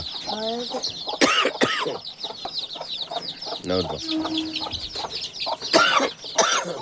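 Several chickens cluck and call close by in a busy coop, with overlapping squawks and short rooster-like calls throughout.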